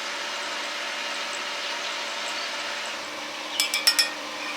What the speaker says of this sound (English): After the first layer is complete, clean the slag first.